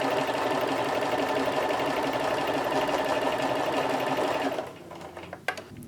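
A sewing machine with a standard presser foot stitches vegan leather held with double-sided quilter's tape, a loud, fast, even mechanical whir that runs steadily and then stops, followed by a few small clicks and handling sounds.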